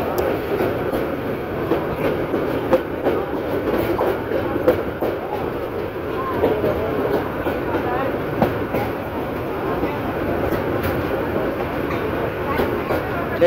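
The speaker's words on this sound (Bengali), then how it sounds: "কর্ণফুলি কমিউটার ট্রেনটি ঢাকার থেকে সকাল 8টা 45 মিনিটে ঢাকার থেকে ছেড়ে আসছে" The Karnaphuli commuter local train runs on the rails between Dhaka and Bhairab in Bangladesh, giving a continuous close rumble with rhythmic wheel clatter and faint squeals throughout.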